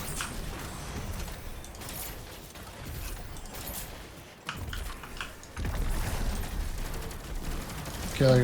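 Rapid gunfire from a Destiny shooter game fills the scene in dense bursts, with heavy-ammo weapon fire against enemies and a loud blast near the end, mixed with game effects.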